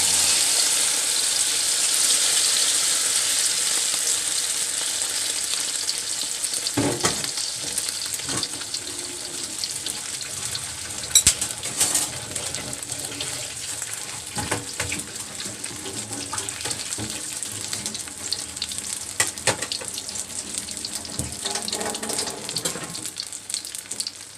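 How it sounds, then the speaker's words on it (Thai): Beaten egg sizzling in hot oil in a pan for a Thai omelette, a loud, steady crackling hiss that fills the whole stretch, broken by occasional scraping and stirring clatters as it cooks. "น้ำมันร้อนแล้ว ใส่ไข่ลงไปเลย"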